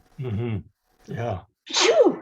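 A single sharp sneeze from a person during an indoor group conversation, coming right after a couple of short spoken replies.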